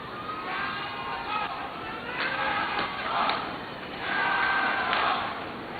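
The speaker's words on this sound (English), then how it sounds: "Big crowd cheering for Yago," A large crowd at a professional sumo tournament cheers in a steady, swelling roar, rising and falling in waves across the bout.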